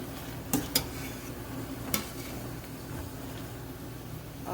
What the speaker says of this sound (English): you just want to take your spoon and make sure you stir it so that it doesn't really stick to the bottom